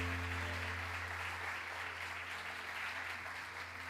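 A church congregation applauding during a worship service, a full sustained round of clapping that stays fairly even before easing slightly at the end, no voices over it.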